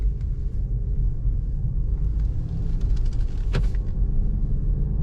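A Lincoln Corsair with the 2.0 front-wheel-drive setup pulls away from rest, its low engine rumble and road noise steady and close, with a brief higher whine rising partway through.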